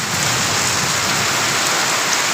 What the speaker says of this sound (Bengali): আজকে বৃষ্টি আল্লাহর রহমত নাজিল হয়েছে বিশাল বৃষ্টি দেখতে পাচ্ছেন